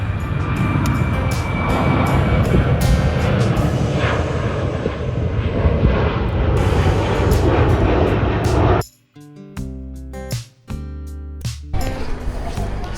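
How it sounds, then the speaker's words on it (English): A fixed-wing airplane passes low over a golf course near Adelaide airport, its engine roar loud and sustained for about nine seconds before it cuts off abruptly and music takes over. "there's John enjoying the game and a bit of aviation show in the background. It's not every day you get a plane in your shot."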